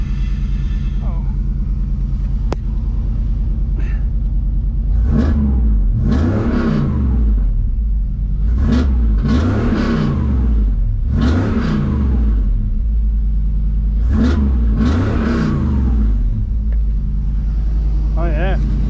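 A 1987 Chevrolet Camaro IROC-Z third-generation V8 with a repaired exhaust, idling with a deep steady rumble, then revved in several strong, close bursts that rise and fall back to idle.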